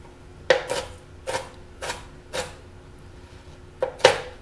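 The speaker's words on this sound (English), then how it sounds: "with my knife I'm just crushing it up" A knife crushing an Oreo cookie, a series of sharp taps and crunches at irregular intervals, close and fairly crisp, with a louder double knock near the end.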